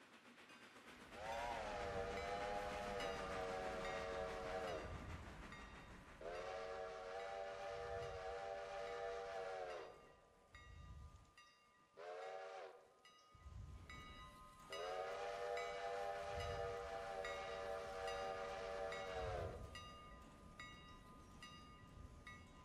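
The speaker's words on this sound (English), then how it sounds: "now that we have sent the trains off and running" Steam locomotives in the train game Railroader, with loud sustained whistle blasts repeating at intervals over a rumbling running train, a few shorter blasts between the long ones, no talk.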